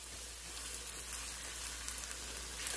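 Shrimp fry in a hot pan for shrimp fried rice, giving a steady, close, moderately quiet sizzling hiss that holds evenly for a few seconds with no talking.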